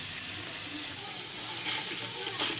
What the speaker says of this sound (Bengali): পেঁয়াজ দিয়ে আরও কিছুক্ষণের জন্য ফ্রাই করে নেব